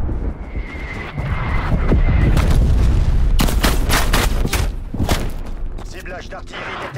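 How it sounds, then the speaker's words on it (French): Artillery strike in the Call of Duty Cold War alpha, with loud repeated explosions and booming impacts, dense and continuous from about two seconds on, and a burst of sharp blasts in the middle. "Frappe d'artillerie en approche."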